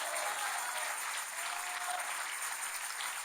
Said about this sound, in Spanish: Le puedes dar un aplauso por amor